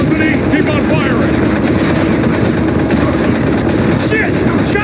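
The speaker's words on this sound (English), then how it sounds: "Chopper!" A helicopter approaching in the Modern Combat 5 video game, a loud continuous rotor and engine roar filling the scene without letup, with gunfire-like bursts and voices faintly mixed in.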